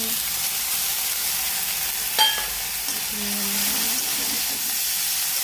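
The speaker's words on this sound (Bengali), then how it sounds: "টমেটো দিয়ে একটু নেড়ে নেব। রসুনটা দিয়ে দেবো" Tomatoes and garlic frying in a pan for a fish curry, being stirred: a loud, even sizzle and hiss with a single utensil clink and soft stirring sounds.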